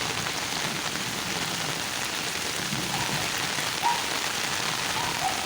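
Steady rain falls on Chari village in Punjab, flooded by an overflowing pond, a continuous even hiss of drops on water and surfaces with a few louder splashes, no voices.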